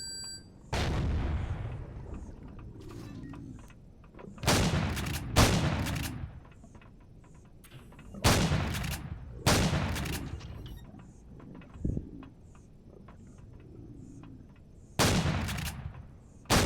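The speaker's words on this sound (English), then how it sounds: "Get out the shotgun for some possible close quarters combat" Shotgun blasts in the video game Empyrion, roughly seven loud, sharp booms spaced a few seconds apart, each with a short decaying tail, with quieter ambient hum between shots and no talk.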